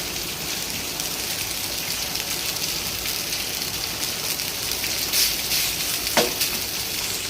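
Vegetable fried rice is stir-fried in a hot pan, a steady dense sizzle with a few sharp scraping clinks near the end and no talk.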